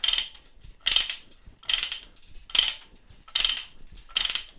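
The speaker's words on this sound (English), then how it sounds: "all you want to do is wind it until you can see these the threads starting to come together." A trolley's ratchet is wound by hand, giving six evenly spaced bursts of sharp clicking, each a loud close rasp followed by a brief quiet gap.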